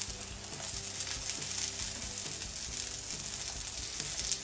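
A just-flipped omelette sizzles softly in a pan, with a faint steady crackle and a few light scrapes from two spatulas.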